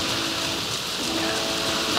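Steady rain falls in the video game Alan Wake 2, a dense, even hiss of drops on surfaces that stays constant and fairly close throughout, with no voices over it.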